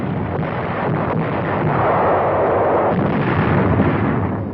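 Naval and aerial bombardment of the Incheon area in archival war footage, a continuous loud, dense rumble of artillery and explosions, with no clear gaps between blasts.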